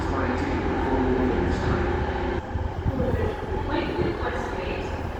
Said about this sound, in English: An excellent departure from LNER.